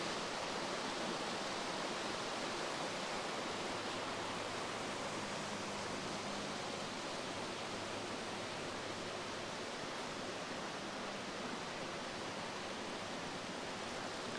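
Big Rock Falls, a waterfall on the hiking trail to Rapidan Camp, gives a steady broadband rushing roar that stays constant throughout, faint and unbroken with no voices.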